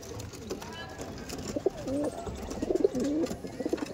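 Andhra Madrasi pigeons in a breeder's loft give throaty cooing calls, several rolling coos clustering in the second half over a constant room murmur.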